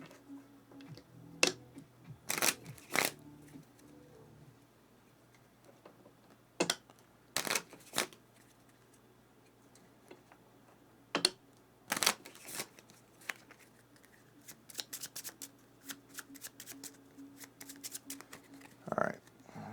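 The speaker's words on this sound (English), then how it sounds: "we'll shuffle his for the penultimate time" Cards from a Mage Knight board game deck are shuffled in short, sharp bursts of riffling and snapping, several separate spurts spread out over a quiet tabletop background.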